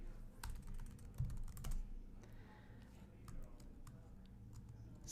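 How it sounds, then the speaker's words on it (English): Keys on a computer keyboard are tapped in quick irregular bursts of soft clicks, faint and close, with brief pauses between runs of typing. "I can type bicycling Asia."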